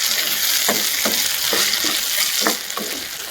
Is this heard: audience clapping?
no